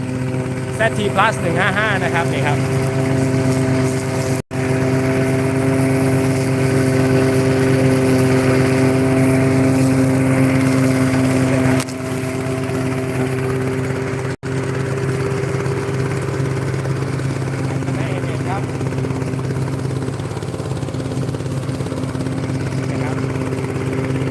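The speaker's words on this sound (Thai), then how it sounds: "New Tech Tractor คันนี้คันใหม่เลยนะครับ ติดเครื่องยนต์นะครับ" A New Tech tractor engine with a front-mounted mower runs steadily at close range, a constant droning rumble with someone talking over it throughout.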